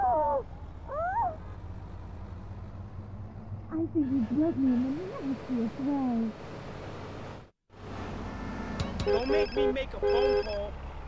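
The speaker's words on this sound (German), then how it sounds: "Oh, wir kriegen einen Anruf." A mobile phone rings in GTA San Andreas, a melodic electronic ringtone repeating in bursts over game background sound, with a brief dropout partway through.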